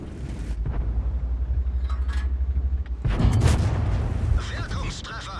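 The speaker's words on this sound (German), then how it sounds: "Ja, mit der kleinen Kanone kann man auch HE schießen." In World of Tanks, the small cannon of a Panther/M10 tank fires a high-explosive shell: a steady low engine rumble is broken by a loud, booming shot with a rattling aftermath, and a voice talks over it.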